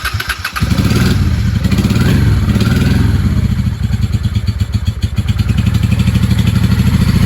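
A 1995 Honda Shadow VLX 600 V-twin idles on choke, a loud, close, lumpy rumble with a fast uneven pulse that holds steady after a brief sputter at the start.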